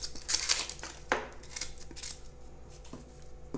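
Knife cutting an onion into slices on a board for a chicken dish, giving a few crisp, close chopping strokes and scrapes near the start, then quieter single cuts.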